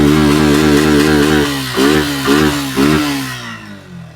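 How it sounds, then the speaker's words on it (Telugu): A 2023 Suzuki Gixxer motorcycle with 6500 km on it, its engine running close and loud at a steady idle and then revved in three short bursts before the throttle is released. "ఒకసారి వెహికల్ ఇంజిన్ కూడా స్టార్ట్ చేసి చూపిస్తాను"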